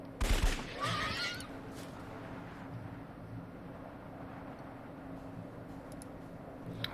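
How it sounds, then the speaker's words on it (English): Musket shots in the Age of Wonders 3 strategy game: a sharp burst of gunfire right at the start, then a softer crackling tail fading under a low, steady game ambience. "Another little musket shot right there."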